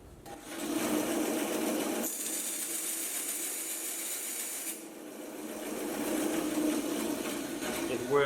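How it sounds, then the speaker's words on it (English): A bandsaw with an 18 TPI blade cuts titanium at a knifemaking bench, a steady gritty hiss with a brighter rasping stretch in the middle, fairly close and continuous for about eight seconds. "a bandsaw blade. And it has 18 tooth per inches, so it should be able to cut titanium."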